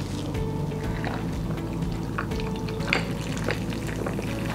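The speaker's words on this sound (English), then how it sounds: "your tea infusion can be poured directly over the ice." Tea infusion, shaken until bubbly, poured directly over ice for homemade bubble tea, making a steady loud liquid rush with a few clinks and trickles, no voices.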